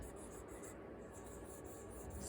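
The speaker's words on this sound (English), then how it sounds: "I write it again underneath" A word written by hand in a phonics lesson, a soft, continuous scratch and rub of the writing tool against the surface, quiet and close, with no voice over it.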